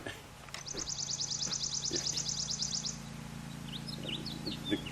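On a farm, a bird trills a rapid, even series of high chirps for a few seconds, then scattered short calls follow against a quiet outdoor background.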